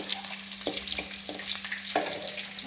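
Thinly sliced onion pieces fry in oil for tamarind chutney, a continuous close sizzle broken by a few soft stirring knocks, with no voices.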